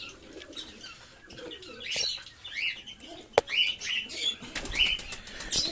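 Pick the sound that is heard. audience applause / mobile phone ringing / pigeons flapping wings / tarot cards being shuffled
pigeons flapping wings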